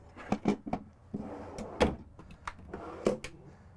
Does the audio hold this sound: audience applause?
no